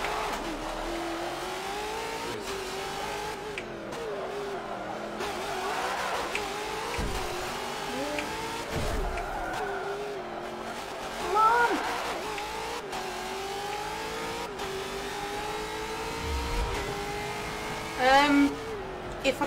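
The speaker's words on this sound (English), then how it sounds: "You go faster than this, you stupid car." Video game car engine revving and changing pitch as it races around, rising and falling whines with a couple of louder bumps, loud and continuous throughout.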